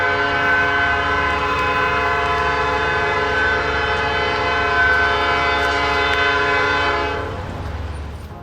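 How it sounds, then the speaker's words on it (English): A loud, sustained multi-tone horn blares from a passing coal train for about seven seconds, then cuts off, leaving the rumble and rattle of rail cars rolling by close at hand. "This is the first coal train in 8 years to come through here."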